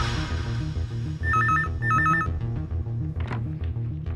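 A telephone rings in two short electronic bursts over a rhythmic background music track, fairly close and clear.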